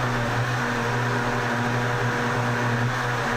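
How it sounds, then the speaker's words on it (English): A blender running on broccoli cheese soup gives a loud, steady motor whir with constant pitched hum throughout, close by and heard alone. "It looks like all you can hear is a blender."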